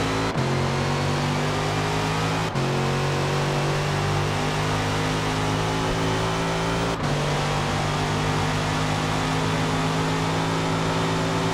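A Corvette C7 race car engine in the Forza racing game drones loud and steady at high revs, with a few abrupt gear shifts punctuating the continuous roar.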